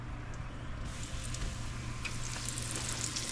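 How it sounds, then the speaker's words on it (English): Italian-style pork chops fry in olive oil with a steady, close broadband sizzle that holds evenly throughout, broken by a few faint crackles and spatters. "What we're gonna do is we're gonna fry them up 3/4 of the way"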